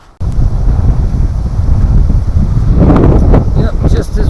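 Strong wind gusts buffet an outdoor campsite in high, cold wind and rain, a steady loud roar that swells louder toward the end with some rustling on top.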